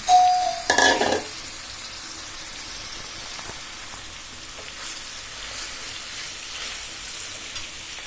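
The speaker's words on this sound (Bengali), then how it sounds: "এবার আমি সকল মশলা সহ মাখিয়ে রাখা কচুলতিগুলো দিয়ে দিচ্ছি" Taro stolons coated in spices hitting a hot pan, a loud burst of sizzling at first, then settling into a steady, softer frying hiss that runs on throughout.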